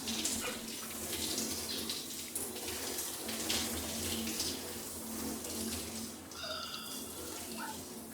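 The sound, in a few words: shower running in Farming Simulator 25 video game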